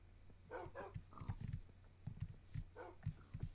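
A Minecraft dog, a tamed wolf, gives a series of short, close barks in quick bursts, repeated several times against a quiet background.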